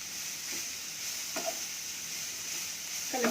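A pan of radish stir-fry, salted, sizzles softly and steadily while a spoon scrapes and stirs it in a few brief strokes, with no talk.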